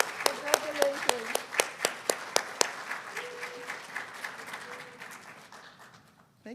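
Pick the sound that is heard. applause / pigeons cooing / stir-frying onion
applause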